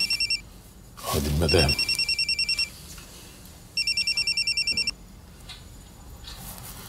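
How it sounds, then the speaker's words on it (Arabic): A telephone rings in bursts of rapid electronic trills, two clear ring cycles with a voice speaking between them, in an indoor scene from an Egyptian TV drama. "مؤاخذة يا باشا، تليفون"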